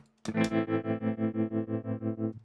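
Electric guitar chord run through a Quad Cortex tube tremolo recreation, a single strum ringing with steady rhythmic volume throbs of about six per second before fading out, with no talking.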